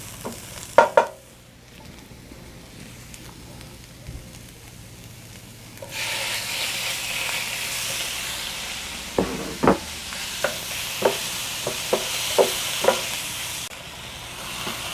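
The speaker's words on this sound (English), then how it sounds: "So we're just gonna cook off this beef, our beef brisket, for around 5 minutes." Beef brisket frying with onions in a pan: quiet at first, then a steady sizzle rises midway, punctuated by a run of sharp spoon or spatula knocks and scrapes against the pan.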